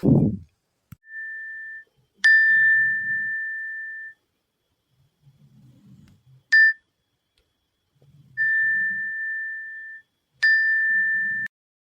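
Phone notification tones chime repeatedly, sharp pings followed by sustained high beeps, with long silent gaps and faint low murmuring between them.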